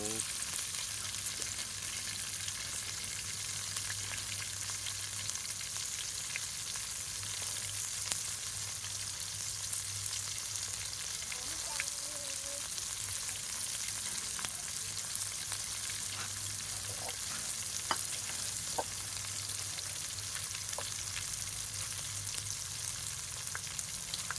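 Sliced fresh chili, garlic and shallots stir-frying in a pan, a dense, continuous oil sizzle held at an even level, with faint scattered clicks and no talking.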